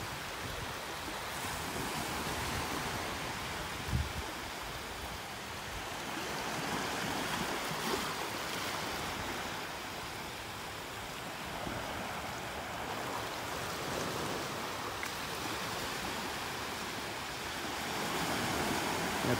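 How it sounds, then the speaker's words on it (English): Ocean waves breaking on a beach in North Naples, Florida, on a morning low tide, a continuous soft surf with gentle swells rising and falling, some wind across the microphone. "Beautiful with the waves back there."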